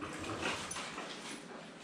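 A dog whimpers and whines softly during target training, a thin continuous whine that lasts through the short clip with no clear barks and no talk.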